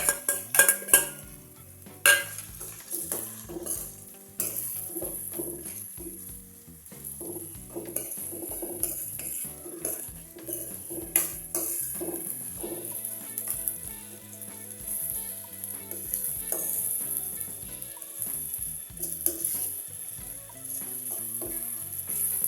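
Onions fry in oil in a pan for a chana dal curry, sizzling continuously while a utensil stirs and scrapes against the metal in irregular bursts, close and fairly loud.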